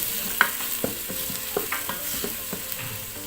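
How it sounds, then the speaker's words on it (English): Onion frying in hot oil inside an electric pressure cooker, a soft sizzle with scattered scraping stirs and clicks of a utensil against the pot, close and fairly quiet, no talk. "So our oil has heated up, and I'll put in the onion"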